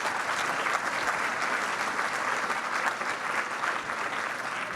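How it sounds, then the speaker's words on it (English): Audience applause at an anniversary finals celebration runs as steady, dense clapping throughout, fairly loud and even. "Please, a round of applause."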